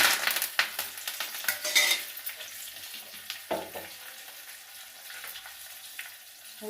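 Curry leaves crackle in hot oil alongside urad dal, cumin and cut dried red chilli, with brisk stirring clatter at first, then a softer, steady sizzle.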